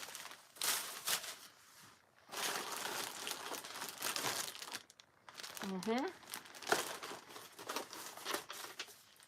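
Paper crinkles and rustles in bursts during an unboxing of a package, close and fairly quiet, with short pauses between handfuls and someone talking at one point.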